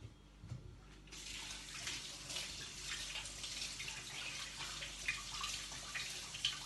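Running water pours steadily from a tap while hands are washed under it in a home kitchen, a continuous broadband splashing rush that starts after a brief quieter moment and stays close and even, with no one talking.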